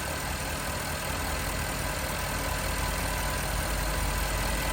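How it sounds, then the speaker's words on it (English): A 2013 Porsche Cayenne GTS with 135,000 km idles smoothly and steadily, a constant low engine hum with a broad even hiss, heard alone without talking for nearly five seconds. "there's nothing unusual with the way this engine is running"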